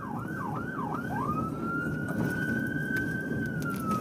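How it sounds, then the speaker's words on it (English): An emergency siren yelps rapidly a few times, then settles into a long, steady wail, loud and continuous over road rumble. "Sirens on the whole time."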